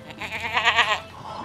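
A single bleating sheep or goat, a short quavering cry with several pulses, near and fairly loud against a faint background hum.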